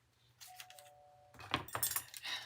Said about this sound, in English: The doorbell situation.